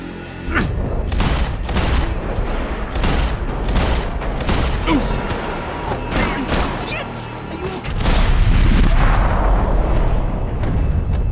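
Rapid bursts of gunfire and heavy booming blasts from the Max Payne 3 video game, loud and dense throughout, with shouted voices mixed in among the shots.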